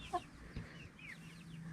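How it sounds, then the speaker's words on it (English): Farm chickens cluck softly and intermittently at a distance, a few short calls and faint chatter over quiet outdoor background. "And the chickens are chickening."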